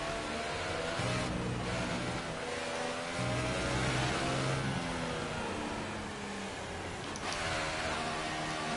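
Formula 1 car from the F1 2018 racing game with a worn engine, its high whining roar rising and falling steadily through gear changes, loud and continuous with no talking.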